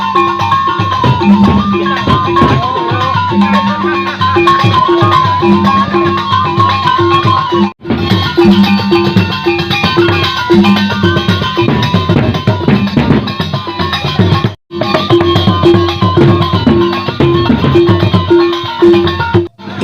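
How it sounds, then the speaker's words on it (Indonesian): Sticks striking shields during a Sasak perisian stick fight, with steady rhythmic clacking and drumming-like hits, loud and continuous, broken by a couple of short pauses. "perisian itu bunyi benturan tongkat rotan menghantam perisai"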